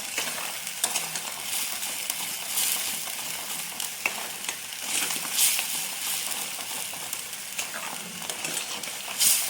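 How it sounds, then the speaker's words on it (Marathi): Spice masala for Puneri misal pav fries and sizzles in a kadai as it is stirred constantly, a steady bright crackle broken by irregular scraping strokes, with no one talking. "सारखं हलवत राहा, म्हणजे मसाले खाली बुडायला लागणार नाही कढईच्या"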